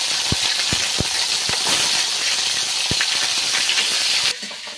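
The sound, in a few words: fish being fried again in pan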